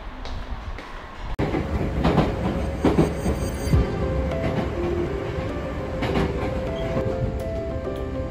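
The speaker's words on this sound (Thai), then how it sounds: "เราอยู่บนรถราง" Tram running on rails through Osaka, heard from on board: a steady loud rumble of wheels and car body with rattles, clicks and brief squeals throughout, no talk.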